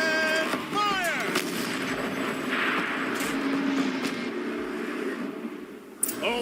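Turret weapon firing in the Horizon Zero Dawn video game: a dense, continuous barrage of loud booming shots with rumbling low end, a sharp crack near the end, no speech.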